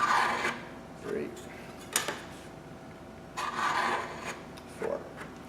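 A steel scraper having its burr turned while being sharpened, giving repeated rasping strokes, a few long scrapes with short gaps between them, close and fairly quiet, with no talking.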